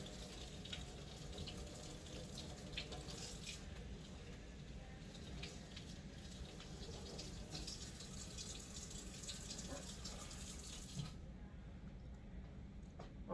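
Steady running water pours from a scrub-sink tap as hands and forearms are rinsed, a close, continuous splashing wash that stays even throughout and thins slightly near the end.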